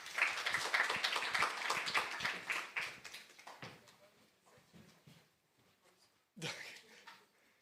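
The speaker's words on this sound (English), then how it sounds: "Big round of applause" An audience applauds a presenter at an architecture research event, a brisk round of clapping that tapers off into a few faint claps before a short bump of noise.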